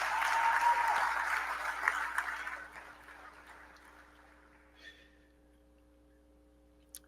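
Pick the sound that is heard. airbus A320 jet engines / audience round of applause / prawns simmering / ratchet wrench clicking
audience round of applause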